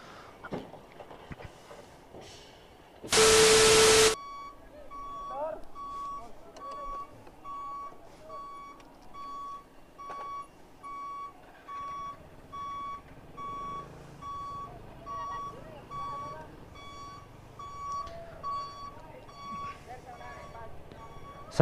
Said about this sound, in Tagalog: So mukhang unahin muna i-load yung mga truck